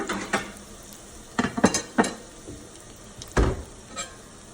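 Fried chicken jalapeño popper egg rolls sizzle in a pan of oil with a steady frying hiss, broken by clinks and scrapes of a utensil against the pan, close and moderately loud.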